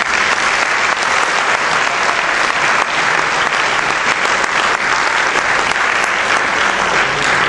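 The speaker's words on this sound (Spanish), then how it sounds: "Damos pues un fuerte aplauso a todos ellos por haber leído esta fábula." Audience in a hall applauds readers after a fable reading at a bicentenary event, giving loud, sustained, dense clapping that stays even for several seconds, with no talk over it.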